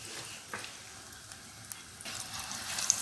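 Eggplant fritters (beguni) frying in oil make a soft, steady sizzle with light crackles and pops, fairly faint and with no one speaking.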